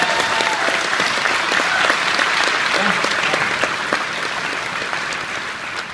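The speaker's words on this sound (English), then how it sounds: "Everybody applaud that one." A live audience breaks into dense, sustained applause that stays loud throughout, easing off slightly at the end.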